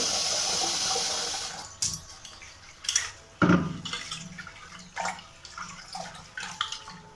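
Rice is washed with water in a home kitchen: a steady rush of running water gives way to a series of separate splashes and sloshes, close and moderately loud, with no talking.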